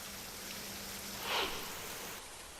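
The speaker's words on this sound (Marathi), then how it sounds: "रायगडच्या अलिबाग, पेण, मुरुड आणि रोहा तालुक्यात जोरदार पाऊस सुरू आहे" Heavy monsoon rain falling in Raigad district on the Maharashtra coast, a steady broadband hiss of downpour with a brief louder swell midway, continuous and without voices.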